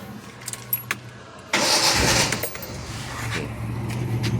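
A few light clicks and jingles, then a Nissan C22 Vanette pickup engine cranks and catches with a loud burst, settling into a steady idle close by.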